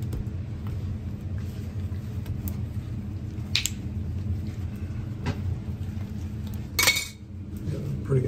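Pink coloring gets worked into a warm slab of cinnamon ribbon candy, a low steady rumble of kneading with occasional light metallic clinks and taps from tools nearby.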